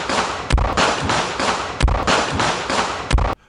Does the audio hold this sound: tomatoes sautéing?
no